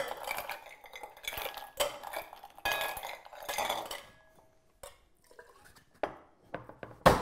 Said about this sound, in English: Then I'm just gonna add our ice into our tin.